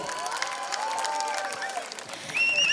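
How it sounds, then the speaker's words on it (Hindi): Audience applause with scattered cheers at a Hindi historical television drama event, a fairly steady crowd patter of moderate loudness with thin tonal sounds rising near the end. "जोरदार तालियां होनी चाहिए"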